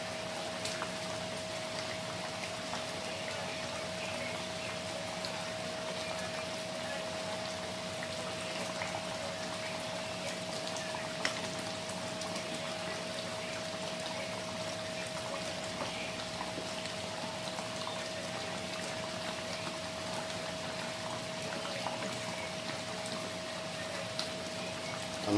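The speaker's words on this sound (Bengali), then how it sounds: "আর গ্রেভিটা কিন্তু ফুটে উঠেছে। আর এখন সময় হয়ে গেছে মাছগুলো দিয়ে নেওয়ার।" Bengali doi katla gravy simmering as fish pieces go in, a steady soft bubbling with a constant tonal hum underneath, close and continuous with no talking.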